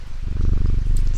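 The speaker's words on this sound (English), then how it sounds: "Let's pet the cat again." A cat purrs steadily and loudly while being petted in the video game Strange Antiquities, a close, continuous low rumble with no talk over it.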